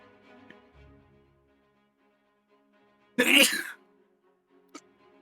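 A single sharp, loud sneeze bursts out alone in a quiet room, preceded by faint murmuring and followed by a brief small click.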